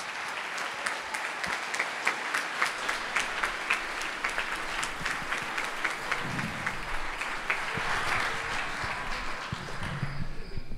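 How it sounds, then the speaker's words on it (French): Loud, sustained applause from a large crowd at a storytelling evening fills the room, steady and enthusiastic before tapering off at the very end. "Donc merci d'applaudir très fort Bernard Werber."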